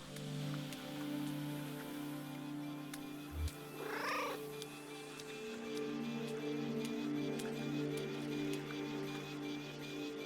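A cat in the video game Kentucky Route Zero purs softly over a steady ambient backdrop like light rain, with one brief rising meow-like call partway through.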